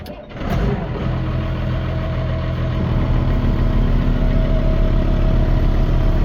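A tractor's 5.9 Cummins diesel engine idles steadily and loudly, a low rumbling drone holding constant throughout after a brief rise at the start, in muddy farm surroundings.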